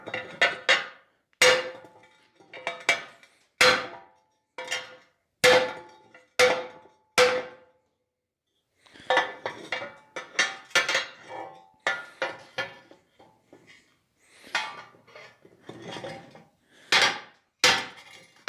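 Metal fire pot struck cold with a hammer during repair, a long run of sharp, ringing clanks, close and moderately loud, in irregular bursts with brief pauses and no talking.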